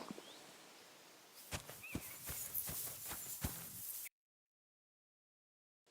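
Horse hooves clip-clop in Kingdom Come Deliverance II, a run of about half a dozen close, distinct hoofbeats over quiet background, stopping abruptly into silence.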